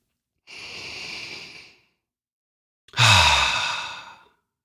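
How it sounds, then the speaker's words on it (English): A deep breath during a breathwork session: a long, airy inhale lasting over a second, then a short silence, then a stronger, rougher, breathy exhale that slowly fades. Close and distinct, with no talking. "Let's take a deep breath together."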